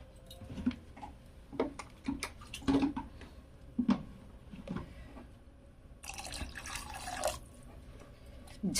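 Water pours into a pan of eggplant and egg curry cooking over a high gas flame, with scattered drips and splashes, then a steadier rush of filling liquid near the end, close and fairly quiet.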